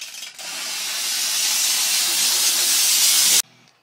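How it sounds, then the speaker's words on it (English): A steamer nozzle blasts a strong, steady hiss of steam into a bottle for sanitizing, loud and sustained for about three seconds before cutting off sharply. "I'm just going to use it to put steam inside of here."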